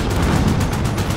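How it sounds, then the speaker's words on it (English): A Holgar light machine gun fires in sustained rapid automatic bursts in a first-person shooter match, loud and close with a dense rattling rhythm. "My Holga light machine gun."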